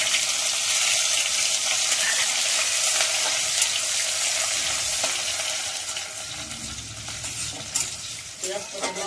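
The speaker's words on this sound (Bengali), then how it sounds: "পেঁয়াজটা লাল লাল করে ভেজে নেবো" Whole cumin seeds and chopped onion frying in hot oil, a loud, continuous sizzle with stirring scrapes throughout and no talking.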